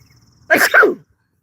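A single sharp sneeze, close and loud, in two quick bursts against near silence.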